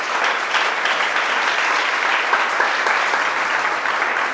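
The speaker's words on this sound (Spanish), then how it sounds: "dale un aplauso al Señor" An evangelical church congregation applauds the Lord during a sermon, producing a loud, dense and continuous clapping that holds steady throughout without pauses.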